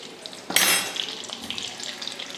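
Eggs for an egg curry drop into hot oil with a sudden sizzle that settles into steady light frying and crackling, with faint utensil clinks and no talk.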